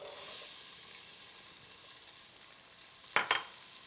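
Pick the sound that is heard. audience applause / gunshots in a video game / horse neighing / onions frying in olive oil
onions frying in olive oil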